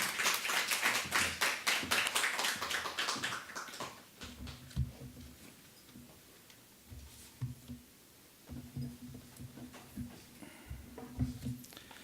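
Congregation clapping to welcome a missionary to the pulpit during a Sunday church service, a loud burst of many hands at the start that thins into scattered claps and faint voices.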